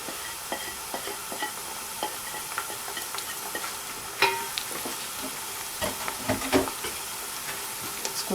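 Spices frying in ghee or oil for murgh cholay are stirred in a pan, a continuous sizzle broken by repeated scraping clicks of the spoon, close and alone.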